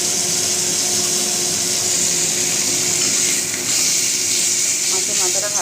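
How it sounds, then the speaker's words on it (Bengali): A fish head fries in hot oil with a loud, steady, close hiss that keeps going without pause for the whole stretch. "মাছের মাথাটা ভালো করে ভাজা করে নিই।"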